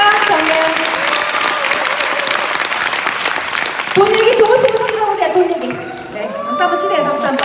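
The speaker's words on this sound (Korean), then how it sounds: "박수 한번" Applause from a seminar audience in a large convention hall, steady clapping that continues under a speaker's amplified voice, which grows louder midway through.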